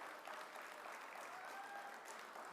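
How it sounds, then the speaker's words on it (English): Applause from an audience at a live Bharatanatyam classical Indian dance event, a steady dense patter of many hands clapping, faint and distant, with no voices over it. "Can we have a bigger round of applause for all these participants?"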